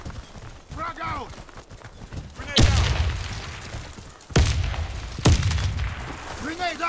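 Grenade blasts and bursts of gunfire in the video game Warface, with sharp loud booms near 2.6, 4.3 and 5.3 seconds over continuous battle noise, and voices calling out over the action.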